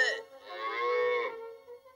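A single long, wavering cartoon cow moo from a Smurfs episode, clear and alone for about a second.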